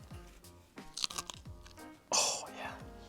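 Crisp, loud crunches of someone biting into a half-moon slice of cucumber for a Greek salad, several bites in quick succession, the sharpest one near the end, with brief voices around them.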